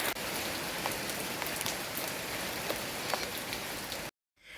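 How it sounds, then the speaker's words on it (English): Steady rain falls in the Kenyan countryside, a dense, even patter of drops on surfaces close by that cuts off abruptly near the end. "just hear the sounds of rain."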